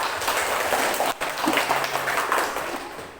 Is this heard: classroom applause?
yes